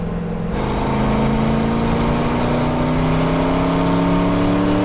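The engine of the Rotsun car pulls hard under acceleration while not yet in boost, a loud, close, rising drone whose pitch climbs steadily.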